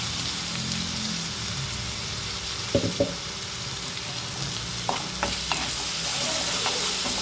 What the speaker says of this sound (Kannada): ಇವಾಗ ಟೊಮೆಟೊ ಒಂದು 4 ಟೊಮೆಟೊ ಅಷ್ಟು ಪ್ಯೂರಿ ಹಾಕ್ಕೊತಾ ಇದ್ದೀವಿ